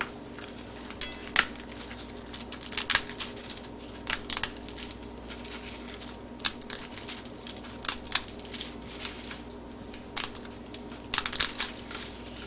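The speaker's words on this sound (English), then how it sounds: "It's a very thin, crispy rice papad. So you need to break them into small pieces, just like this." Thin, crispy rice papad (roti) being broken into small pieces by hand, irregular sharp crackles and snaps in clusters, close and crisp over a quiet, faintly humming room.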